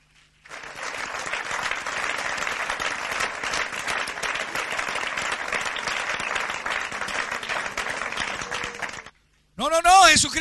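A church congregation breaks into sustained, loud applause that fills the room for about nine seconds, then stops abruptly before a voice returns.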